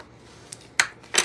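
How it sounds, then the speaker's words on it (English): Paper being folded and creased with a bone folder: a few short, crisp swishes and rubs, growing louder toward the end, close up in a quiet room. "I'm going to fold that down and I'm going to grab my bone folder"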